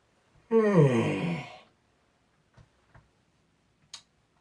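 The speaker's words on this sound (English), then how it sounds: "I'm sorry with this excessive yawning" A single long, close yawn with a voiced, sighing rise and fall, followed by a few faint clicks and taps in an otherwise quiet room.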